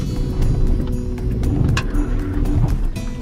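A car labors up a deeply rutted dirt road near ruins in San Ignacio, Belize, with a loud, steady engine rumble and occasional knocks and rattles from the bumpy ground.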